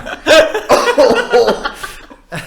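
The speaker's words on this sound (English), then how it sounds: "I wonder why you are coughing." A person coughs in a few close, loud bursts that trail off into a chuckle, followed by a short pause and one last small cough.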